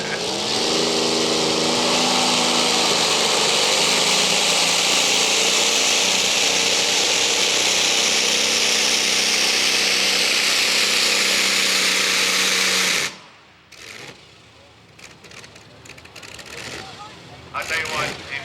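A pulling tractor's engine roars loud and sustained at a tractor pull event, straining under load for about thirteen seconds before dropping away to quieter idle rumble, with a voice talking over the noise.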